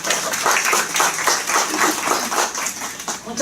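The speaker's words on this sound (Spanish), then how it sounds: "recibamos por favor con un fuerte aplauso a la doctora Diana Carolina Portal Farfán" An audience at a conference on equal-opportunity laws applauds steadily to welcome a speaker, the even clapping filling the room at a constant level for the whole stretch.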